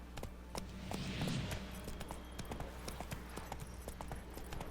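Roach, the horse in The Witcher 3: Blood and Wine, gallops with rapid, rhythmic hoofbeats close by, over a low ambient bed with a brief whoosh early on.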